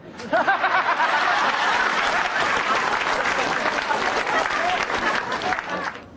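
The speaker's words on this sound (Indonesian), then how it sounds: "Tepuk tangan buat saya." A stand-up comedy audience applauds steadily for the full six seconds, the clapping dense and close, with scattered chuckles and chatter mixed in.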